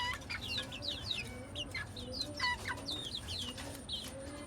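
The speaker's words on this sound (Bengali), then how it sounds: "মুরগির বাচ্চাগুলো আসলে কি সুন্দর করে ঘাস খাচ্ছে" Young native chicks in a cage being fed grass: rapid high-pitched peeping chirps, repeated in quick bursts over a soft background murmur, with fainter clucking underneath.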